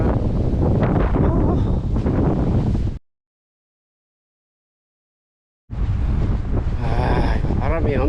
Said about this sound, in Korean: 아, 바람이 엄청나네요.